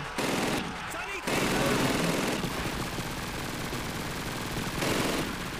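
Rapid machine-gun bursts and rifle fire crackle almost without pause in Call of Duty 2, loud and dense from start to finish with only brief dips between volleys.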